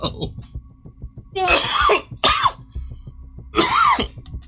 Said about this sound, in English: He's gonna cough.